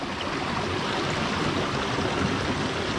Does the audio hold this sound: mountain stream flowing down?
yes